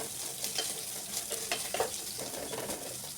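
Sliced onions and lengthwise-cut green chillies fry in a pan with a soft, continuous sizzle and occasional stirring scrapes, close and fairly quiet.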